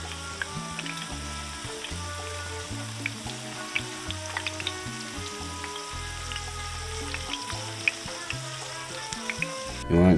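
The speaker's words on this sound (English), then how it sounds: "Once your oil is nice and hot, you can begin to add your potato slices" Potato slices pan-fry in hot oil with a steady, close sizzle and crackle, plus occasional soft stirring and pan clatter and no talking.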